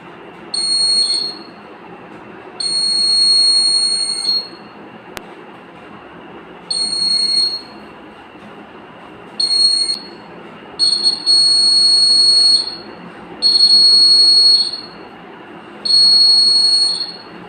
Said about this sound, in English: whenever I bring the hand in front of the face, the buzzer activates